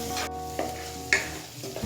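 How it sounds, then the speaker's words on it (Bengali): Salt is stirred into spices in a hot pan for dhaba-style chicken bharta, with a couple of quick scraping stirs over a close, steady sizzle and no talking. "নুন মশলার সাথে ভালোভাবে মিশিয়ে নেব।"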